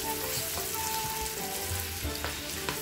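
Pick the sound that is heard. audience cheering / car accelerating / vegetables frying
vegetables frying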